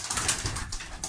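German white homing pigeons cooing, a short, near burst of soft throaty coos, close and fairly loud.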